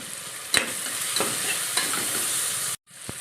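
Onions and masala sauté in a pan for beef curry, a continuous close sizzle broken by a few scraping stirs of the spoon, ending in a brief silence and one last scrape.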